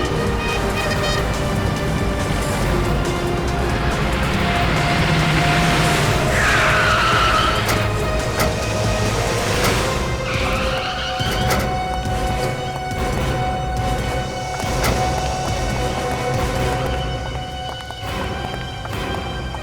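Car tyres skid and screech as vehicles speed through a police chase on a hillside road in a TV crime drama, a loud sustained squeal sweeping up over dense roaring engines and background music.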